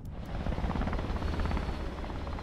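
A helicopter-like ornithopter in a spice-themed strategy video game gives a steady, fairly loud rotor whir with rapid regular chopping throughout, with no voices.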